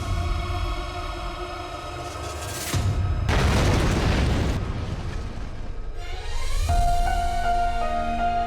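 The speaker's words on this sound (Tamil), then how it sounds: "நாசிக்கில் ஓபரா இண்டஸ்ட்ரிக்கு அருகில் ஒரு ஹெலிகாப்டர் பிளாஸ்ட் ஆகியுள்ளதாக தகவல் கிடைத்துள்ளது" Helicopter explosion near an industrial site in Nashik, heard as loud, sustained booming rumbles and bursts with no voices, a dramatic soundtrack tone rising at the end.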